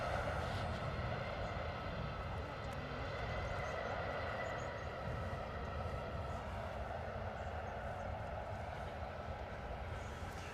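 A Boeing 737 jet at London Stansted Airport gives off a continuous loud engine roar, steady and close, with no break throughout.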